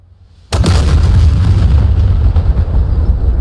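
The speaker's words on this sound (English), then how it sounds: "The T90M got destroyed by our Maverick" A Maverick missile strikes and destroys a T-90M tank in the DCS combat simulator: one sudden, loud, close explosion hits after a brief quiet lead-in, then a long rumbling roar that slowly fades.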